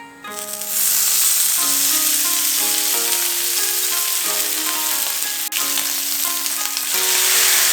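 Wagyu rib slices cooking sukiyaki style in a pan make a loud, continuous sizzle, close and steady throughout, with a melodic music track playing over it.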